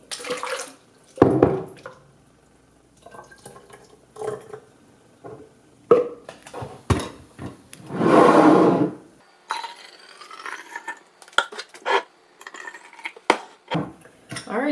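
Okra water is poured back into a container in a home kitchen, giving a few bursts of splashing and trickling liquid, loudest in one sustained pour, among clinks and handling noises.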